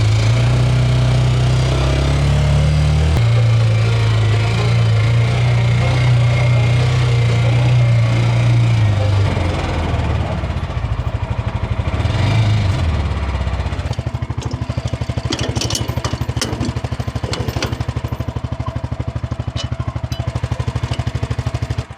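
MechMaxx B200 wood chipper engine running steadily, a loud continuous mid-pitched drone whose tone shifts partway through, with a rougher, gritty edge in the second half as if under load.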